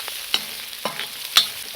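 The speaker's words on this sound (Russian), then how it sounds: "И вот на этом количестве масла я сейчас обжарю еще лук" Onion frying in oil in a kazan outdoors, a soft continuous sizzle broken by a few clicking stirs of a utensil, close and moderate in level, with no voices.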